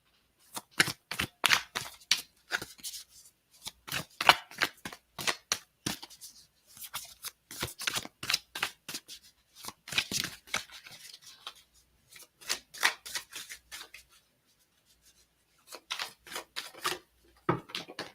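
Tarot cards being shuffled in quick bursts of crisp riffling and slapping, close by, with short pauses between rounds and no talking.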